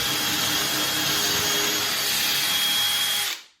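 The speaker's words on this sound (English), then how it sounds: "Now I'm gonna start the drill and plunge right down." A power drill whines steadily at close range for about three seconds, plunging into wood to drill a pocket screw hole, then cuts off abruptly as it spins down.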